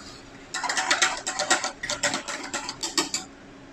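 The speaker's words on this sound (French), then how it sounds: "Donc maintenant, je vais rajouter mon sucre. Et je vais mélanger." Spoon scraping and clinking against a pot while stirring sugar into heating milk with a vanilla pod for a flan pâtissier, a quick rhythmic series of close metallic scrapes and taps.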